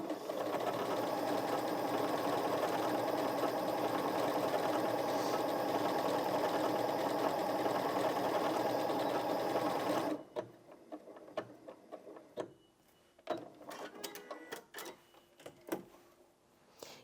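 A Janome MC 6700p sewing machine stitches out decorative hearts, a steady loud whirring hum running for about ten seconds before stopping, followed by quieter clicks and handling sounds.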